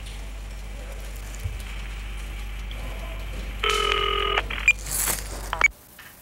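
A telephone rings in a short burst of electronic trills, then falls silent before a brief click; quiet room hum underneath, no talking.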